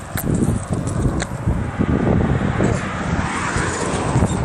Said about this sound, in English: There's a bunch of helicopters all around me.